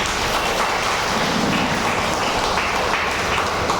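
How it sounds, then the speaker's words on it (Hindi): An audience at a spiritual talk in Titilagarh, Odisha, breaks into dense, sustained clapping, a loud crackling wash of many hands that fills the space evenly with no voices over it. "थोड़ा बजाओ ताली"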